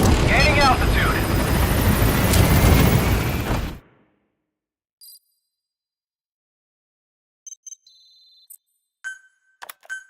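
P-Quad support helicopter in Metal Gear Solid V climbing with a loud rotor roar and radio voice for a few seconds, then cutting to near silence with faint menu blips.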